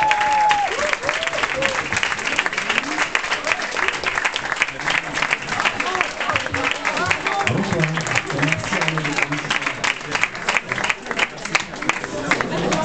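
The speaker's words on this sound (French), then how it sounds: "Applaudissez-le." An audience bursts into sustained, dense applause to welcome a guest at a fan event, with loud, continuous clapping mixed with some crowd noise throughout.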